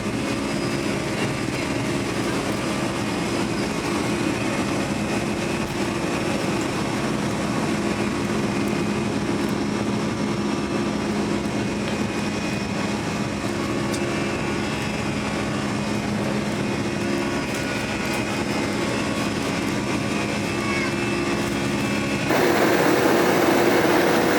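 Airplane cabin noise fills the space as the plane pushes back from the gate, a loud steady roar of engines and airflow with a faint hum underneath and a slight shift in tone near the end.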